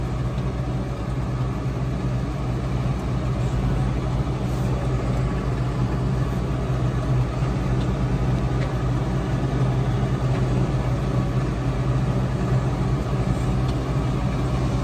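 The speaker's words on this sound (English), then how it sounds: "It's a little tricky sometimes, but the tractor lugs, you know, it kind of wiggles." Heavy, steady engine rumble from a tractor lugging under load as it pulls a trailer across a fairly flat field, a continuous low drone holding for the whole stretch with no speech over it.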